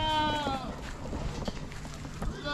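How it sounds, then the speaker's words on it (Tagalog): Goats on a California farm let out a loud wavering bleat at the start, followed by fainter rustling and background farm noise, with faint voices. "Dami pala niyang kambing."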